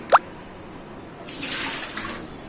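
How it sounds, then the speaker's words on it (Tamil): Dried fish being rinsed in water in a home kitchen: a brief splash near the start, then a soft swishing, pouring wash of water that swells midway and continues steadily. "சரி கருவாடை கழுவியாச்சு. சும்மா நம்ம 2 தண்ணி கழுவுனா போதும்."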